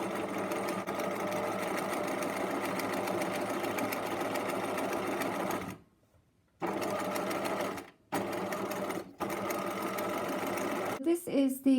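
Sewing machine stitching fabric binding folded over ribbon in a straight line, a steady mechanical whir running continuously, broken by a couple of brief pauses near the end.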